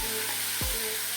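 Well-marinated curried cow tripe sizzling and frying in a hot pot, a steady close crackling hiss with a short stirring or scraping sweep partway through.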